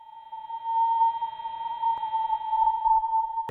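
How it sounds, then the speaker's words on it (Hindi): Sonified pressure changes of high-charge solar particles recorded by NASA's Parker Solar Probe: a steady, piercing mid-pitched tone that holds unbroken with faint overtones, ending in a brief low thump. "ये तीसरी ऑडियो हाई चार्ज पार्टिकल्स में होने वाले प्रेशर चेंजेस की आवाज है, जो किसी बच्चे के रोने की जैसी प्रतीत होती है"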